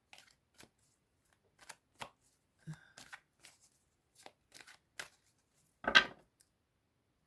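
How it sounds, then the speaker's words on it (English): A tarot deck handled and shuffled quietly, with scattered soft card flicks and taps in an irregular rhythm, close but faint, one fuller riffle near the end. "I've just been shuffling it"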